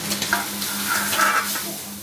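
Fish fries in a covered pan with a leaf lining, sizzling and crackling steadily close up, with a low hum underneath and brief bright spits of oil.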